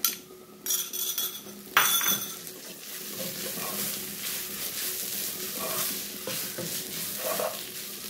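A frying mixture stirred in a pan while cooking Thengamuri, a Ramadan iftar dish: spoon scrapes and occasional metal clinks over a steady sizzle, with a few sharper knocks early on.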